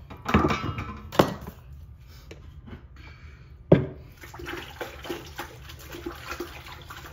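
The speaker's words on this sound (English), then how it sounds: "Clean the towel a little bit," A towel being rinsed in water during a drywall patch job: sloshing, dripping and splashing with a few sharp thunks against a bucket or basin, close and intermittent, with no talking.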